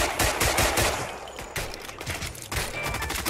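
Machine gun nest firing in the World War II video game RAID, rapid loud bursts of automatic gunfire with short breaks between volleys.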